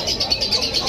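A pigeon gives a brief call at close range, a soft repeated chirping that is steady but muffled and lasts under a second.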